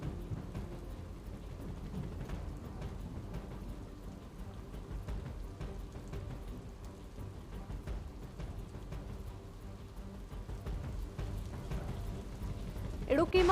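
Heavy monsoon rain in Kerala, a steady low wash of downpour on surfaces with faint scattered drops, continuous and fairly quiet, with a brief louder burst at the very end.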